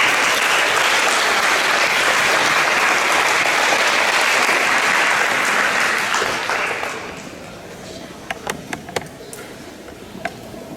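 Audience applause welcoming a student speaker at an April 2024 Board of Education meeting, a broad steady clapping that fills the room for about seven seconds, then fades into scattered single claps and quiet room tone.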